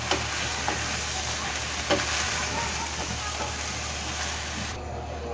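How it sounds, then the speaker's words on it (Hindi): Whole masoor lentils fry in spices in a pan, giving a low continuous sizzle with occasional faint crackles and stirring, briefly dipping near the end. "अब हम दाल को मसाले में अच्छी तरह से भून लेंगे।"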